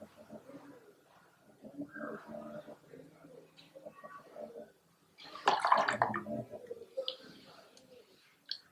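A shaving razor is rinsed under running water to clear out stuck hair, with a burst of splashing in the middle and softer trickling before and after, close by.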